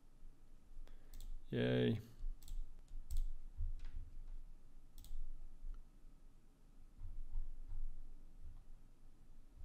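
Quiet, close computer mouse clicks tick sporadically through a calm desk scene, with one person briefly speaking partway through.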